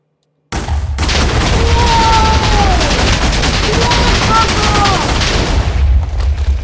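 Explosions in Minecraft, a loud dense barrage of booms and crackling blasts running continuously for several seconds with a whistling tone sweeping over them.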